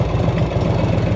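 A 1984 Harley-Davidson FLT Tour Glide motorcycle engine idles at a little under 1,000 rpm, giving a steady, close, low rumble with an even pulsing beat and no voices.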